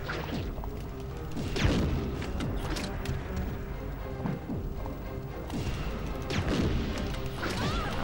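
Grenade launcher explosions in the Resident Evil 3 video game, a series of heavy crashing blasts and thuds at irregular intervals over a constant rumbling game soundscape, without speech.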